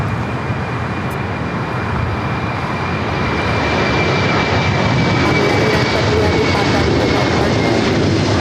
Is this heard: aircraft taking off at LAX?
yes